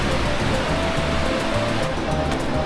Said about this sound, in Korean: 지금 뭐 힘차게 물소리가 납니다